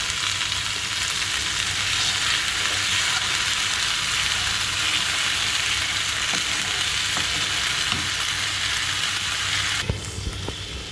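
Green masala paste fries in oil for a Marathi mushroom and capsicum sabzi, giving a steady, loud, dense sizzle throughout with a few faint stirring knocks, and a slight drop in intensity near the end.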